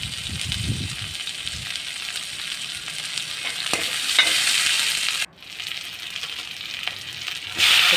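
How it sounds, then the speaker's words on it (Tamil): Onions sauté in a hot pan, a steady close sizzle and crackle with a short stir-like shuffle near the start and a brief dip in the middle. "நல்லா வதங்கிட்டுருக்கு வெங்காயம் நல்லா வதங்கிட்டுருக்கு"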